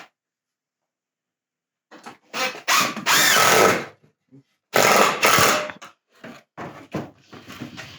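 A handheld impact gun in a workshop fires in two loud, close bursts of whirring and hammering, each a second or so long, followed by several short clicky blips and brief triggers.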